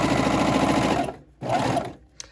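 A serger or cover stitch sewing machine runs loud and close in a steady whir for about a second, stops briefly, then runs again in a shorter burst, ending with a small click.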